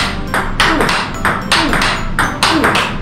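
Table tennis forehand drives: a steady series of crisp ball strikes about once a second, sounding close over a constant hum of room noise.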